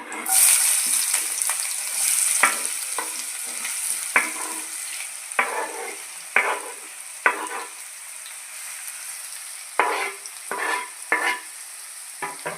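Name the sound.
onions frying in oil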